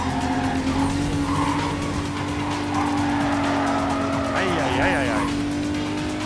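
Tyres squeal hard as a car brakes in Need for Speed Carbon, the screech rising over a droning engine and race noise, while someone talks over it.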